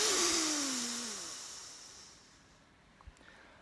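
A breath pushed out as a meditation mantra, a voiced airy exhalation with a falling tone that trails off into quiet hiss, heard alone at close range.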